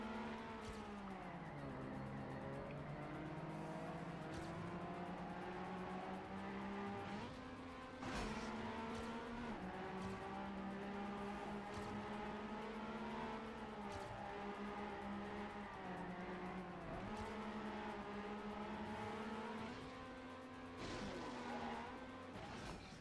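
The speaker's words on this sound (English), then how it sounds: "And obviously now I get a drift." A car drifts in Trackmania United Forever, its engine droning steadily while tires squeal in a long wavering slide, the pitch dipping and rising as the car swings through the turn, loud and continuous throughout.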